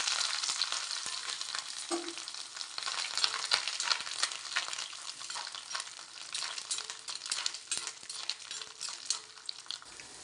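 Grated coconut fries in coconut oil in a pan with a steady, close sizzle that holds for the whole stretch, broken by occasional scrapes and stirring taps. No one speaks.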